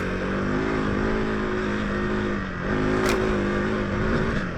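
A KTM 390 Adventure R motorcycle engine holding high revs with a steady buzzing drone, dipping briefly and then climbing again, heard close while riding, with no talk.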